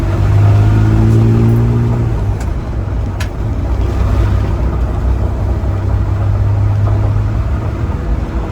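A Ford F100 pickup under restoration picks up speed on the road, its engine rumbling and rising in pitch before settling into a steady drone, heard from inside the cab.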